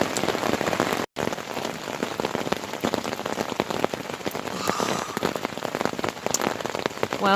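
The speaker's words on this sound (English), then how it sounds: "It's raining, it's falling." Steady rain patters on a hard surface in the Algonquin backcountry in June, a dense, even hiss of drops that continues throughout with no voices.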